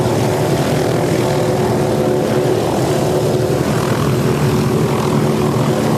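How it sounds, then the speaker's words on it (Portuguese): A police helicopter flies over Los Angeles at night, its rotor and engine roaring in a loud, steady, unbroken drone. "O helicóptero da polícia é uma ferramenta vital da luta contra o crime."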